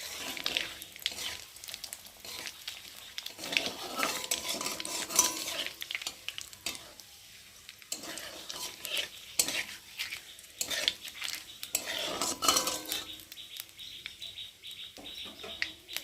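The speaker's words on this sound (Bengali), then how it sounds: "তেজপাতা শুকনো লঙ্কাটা একটু ভালো করে ভেজে নেব।" Bay leaves and dried red chillies fry in a pan with a soft, uneven sizzle broken by scraping stirs of a utensil, with faint bird chirps in the background.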